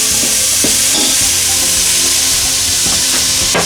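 Browned onions and tomatoes frying in a pot in an African village kitchen, a loud, steady close sizzle with occasional stirring scrapes and clicks, no talking.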